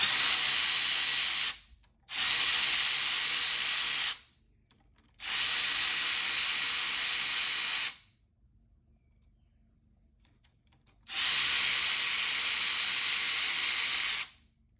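A power ratchet runs in four bursts of about two to three seconds each, separated by short pauses, as it undoes the 8 mm bolts holding the sprocket on a pit bike. The whirring is close and loud, with no talking.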